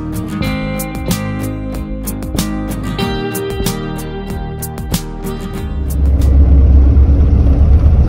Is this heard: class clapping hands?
no